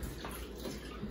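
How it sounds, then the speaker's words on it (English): Running tap water splashes steadily over hands being washed in a home kitchen, a continuous, even rush with no pauses. "hold on, I gotta wash my hands off"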